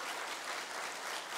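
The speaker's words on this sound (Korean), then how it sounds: "우리 박수로 한번 환영하도록 하겠습니다." Church congregation at a Sunday morning service claps to welcome a newly registered member, a brief, loud, dense burst of applause filling the room without pause.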